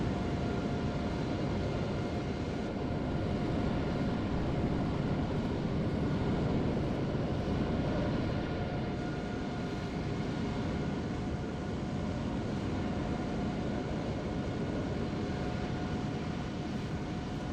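An airliner taxiing in Microsoft Flight Simulator gives a steady, moderate engine whine and rumble with faint tonal hums, unchanging for the whole stretch, with no voices.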